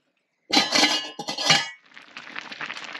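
A metal lid set onto a pot of pampano fish soup, a loud close clatter of several clanks in quick succession, followed by a softer rattling hiss as it settles.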